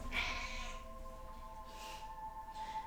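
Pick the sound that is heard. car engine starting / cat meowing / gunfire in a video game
cat meowing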